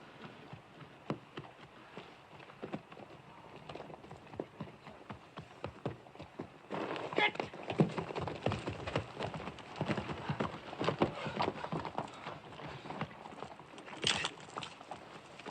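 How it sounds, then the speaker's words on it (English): Horses moving on ground in the rain, with irregular hoof clatter and thuds that grow louder and busier partway through, mixed with rain patter and no clear talking. "Get them horses under cover."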